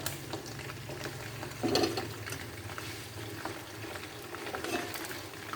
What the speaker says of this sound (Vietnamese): mẹ mình chiên mớ gà cho con của mình ăn